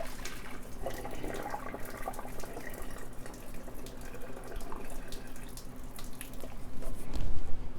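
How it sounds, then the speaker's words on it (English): Water from cooked rice pouring and splashing into a kitchen sink as it is drained, a steady, fairly loud rushing flow that swells toward the end. "We're going to drain all the water off of it."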